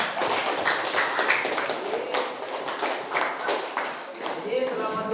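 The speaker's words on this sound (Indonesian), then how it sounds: "Oke, tepuk tangan untuk temannya." Students in a classroom clap for a classmate, a brisk burst of fairly close hand claps with overlapping voices and chatter running beneath.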